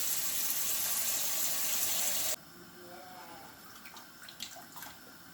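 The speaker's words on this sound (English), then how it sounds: "Get your meat all washed and nice." Water runs steadily from a tap as chicken feet and pigtail meat are washed with vinegar and lime, a loud continuous rush that stops abruptly partway through, leaving quieter handling noises.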